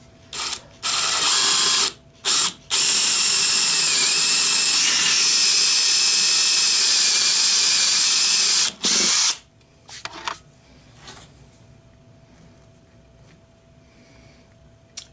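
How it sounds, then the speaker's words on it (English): A power drill whirs loudly into wood in several bursts, a few short starts followed by a long continuous run, then stops, leaving quiet room noise. "Just going to drill in a little bit for that."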